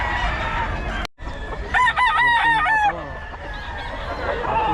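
A stag gamecock crows loudly and close by, one long harmonic cock-a-doodle-doo rising above a busy farmyard background with other birds calling faintly.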